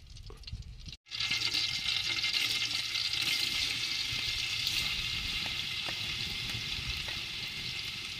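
Chopped onions hit hot oil and break into a loud, steady sizzle that carries on unbroken after a brief silent moment at the start.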